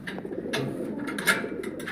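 Soft pigeon coos repeat close by at the release of racing pigeons, layered over one another in a gentle, burbling rhythm.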